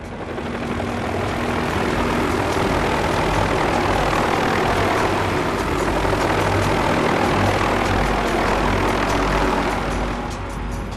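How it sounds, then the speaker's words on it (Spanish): A helicopter flies overhead above an active volcano in poor visibility, making a loud, dense, unbroken engine and rotor roar that holds steady throughout. "De pronto oí un helicóptero, pero esta vez no pude verlo."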